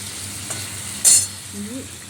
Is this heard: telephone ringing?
no